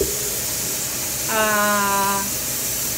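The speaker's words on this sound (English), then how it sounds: "we've had a steady stream of steam" Steam hisses steadily from a pressure canner vent while bacon is being canned, a broad continuous rush lasting throughout, with a brief tonal whistle-like overtone in the middle; close and moderately loud.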